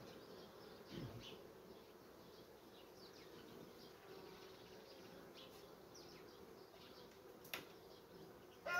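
Faint, steady honeybee buzzing hums quietly throughout, with a couple of soft knocks and rustles, no voices.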